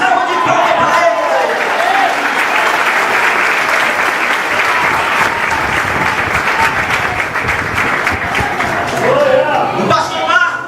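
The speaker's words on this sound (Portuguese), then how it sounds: "Dá uma salva de palmas para Ele." A loud round of applause fills an evangelical worship service celebrating the inauguration of a new church building, with dense, close clapping and voices calling out, then the clapping tapers near the end.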